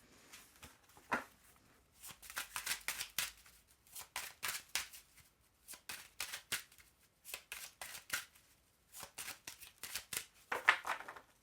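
Tarot cards shuffled by hand before a 13-card draw, a series of soft, quick riffling bursts repeating in an irregular rhythm, close and quiet with no talk.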